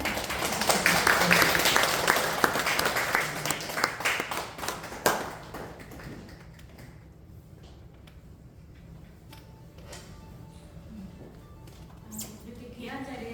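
Audience applause welcomes a guest speaker at a Korean church testimony service, loud dense clapping for about six seconds that fades out, followed by quieter room noise with scattered taps and faint voices.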